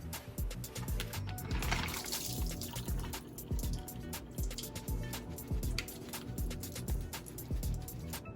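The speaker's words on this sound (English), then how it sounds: "walk over to the sink and pour the shrimp into the strainer" Water splashes and drips as defrosted shrimp are poured into a strainer at a kitchen sink, a continuous soft wet pouring with scattered drops and clicks, close and fairly quiet.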